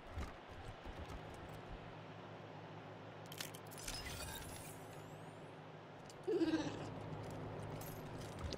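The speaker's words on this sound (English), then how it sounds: "Ooh, that was a goat." A goat bleats in the snowy resort of the video game Wasteland 3, a short wavering cry partway through, set over a steady game ambience with a bright shattering, jingling sound just before it.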